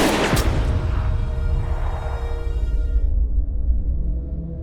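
A single sharp gunshot from a film scene, a loud crack at the start that rings out and fades over a few seconds of rumbling tail.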